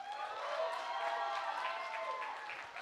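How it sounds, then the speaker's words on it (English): Audience applause at a drumline event, a steady wash of clapping with some cheering, fairly faint and even throughout. "Give them one more applause, please"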